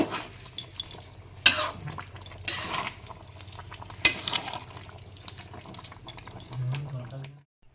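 A ladle stirs a pot of jackfruit and prawn curry, producing soft scrapes and occasional sharper metal clinks against the pot in a quiet kitchen.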